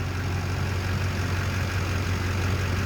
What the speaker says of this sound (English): You can hear how it's idling.